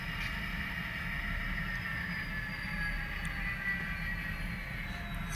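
A Digitrax-controlled model train locomotive rolls forward, giving a steady low mechanical rumble with a faint high whine, even and close, with no pauses and no voices.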